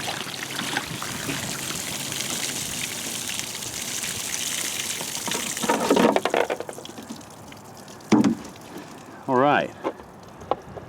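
Water poured out of a plastic jug used to catch a fired pistol bullet, a steady close gush that breaks into glugging splashes near the end.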